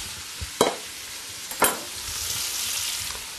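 Bell peppers cook in a pan with a steady low sizzle, broken by two sharp clatters of a utensil being stirred through them, with nobody speaking.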